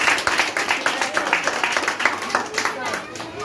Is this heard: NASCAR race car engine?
no